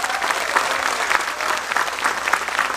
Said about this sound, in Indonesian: Tepuk tangan untuk NO Taiwan